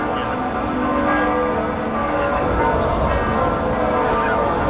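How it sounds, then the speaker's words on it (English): Church bells ring continuously in a 700-year-old city, a dense metallic clangor heard at some distance, steady throughout with faint voices beneath. "Where you hear the beautiful bells coming from."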